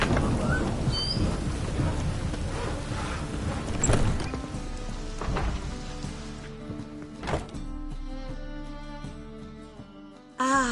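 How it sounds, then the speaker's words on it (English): Rain and thunder in The Witcher 3: steady rainfall patters throughout while low thunder rumbles roll in, with a sharper crack near the middle and a sudden thud at the end. "Rain was coming."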